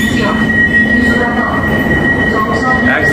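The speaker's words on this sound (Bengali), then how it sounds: "আমি এখন এই মেট্রো নিজে চালাতেছি অলরেডি" A driverless metro train runs along its track with a steady, loud rumble and a continuous high whine, heard from inside a nearly empty car, with no talking.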